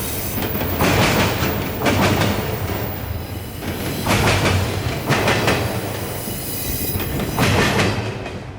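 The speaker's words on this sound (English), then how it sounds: "Amtrak train PO92, the northbound Silver Star train from Miami to New York City, makes his way through Plant City headed to Tampa" Amtrak's northbound Silver Star passenger train rolls through Plant City, Florida, over an old diamond crossing, with loud recurring clickety-clack wheel bursts and rumbling rail noise close by, no voices.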